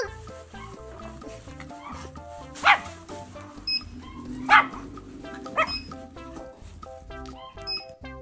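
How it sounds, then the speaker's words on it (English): A dog barks a few short, sharp times over a cheerful children's alphabet song, the barks standing out briefly above the steady music. "D for dog."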